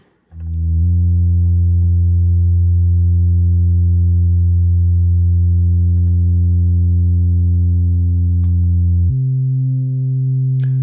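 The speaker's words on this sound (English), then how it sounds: "Here's a synth bass that we made." Synth bass built from a filtered sine-wave generator in Pro Tools, one long loud sustained low note that holds steady, then drops to a lower pitch near the end, heard alone.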